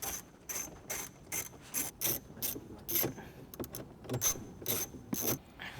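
Ratchet clicking in rapid bursts as a 10mm socket on a long extension loosens a screw inside a 2012-2014 Toyota Camry dashboard, sharp close clicks repeating with short pauses between strokes.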